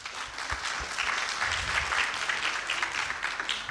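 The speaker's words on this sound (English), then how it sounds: "So let's give a round of applause." Steady round of applause from an audience at a university community tech event, many hands clapping in a continuous dense wash for several seconds at moderate loudness.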